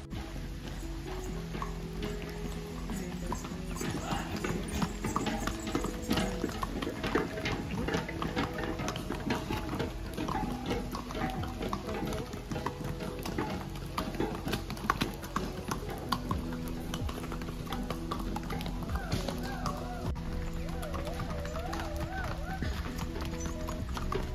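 Pack horses walk a forest path in Matheran, their hooves clip-clopping in a steady, uneven patter, with voices and other background sound running underneath.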